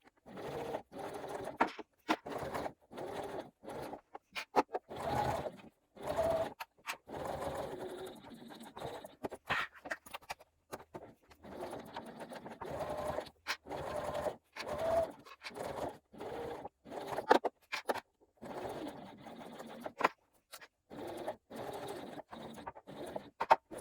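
Sewing machine stitching the side panels of a fabric bag to its center panel, in short bursts of rapid mechanical whirring separated by brief pauses, close and fairly quiet.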